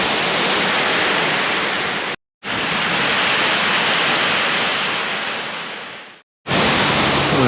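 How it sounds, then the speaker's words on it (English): Miranda Falls waterfall on the Atherton Tablelands, its swirling water making a loud, steady broadband roar that cuts out briefly twice and resumes, with no voices present. "So these are the Miranda Falls."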